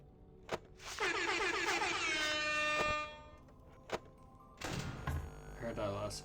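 A vehicle horn in a video game blares in a long sustained honk, then cuts off, followed by a few thunks and a shorter burst of horn and engine noise, with a voice briefly present.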